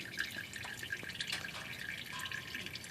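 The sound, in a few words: transmission fluid draining from Ford E350 Super Duty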